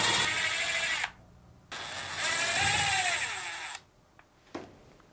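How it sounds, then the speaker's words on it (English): A power screwdriver or drill whirs in two loud bursts, then gives a short final buzz, while Phillips screws are backed out of the lid of a Fisher & Paykel dryer. The takes are close-up with no talking. "Then remove the two Phillips screws."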